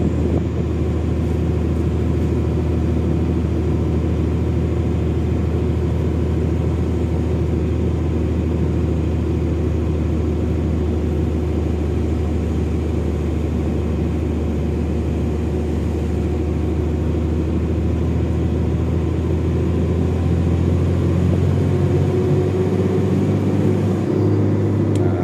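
A truck engine labours in third gear up a long uphill road through Baluran National Park forest, heard from inside the cab as a loud, unbroken low rumble that holds steady throughout.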